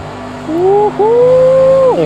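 Race car engine at full throttle in Project Cars 2, a loud close whine rising in pitch, briefly dropping at a gear shift, then climbing again.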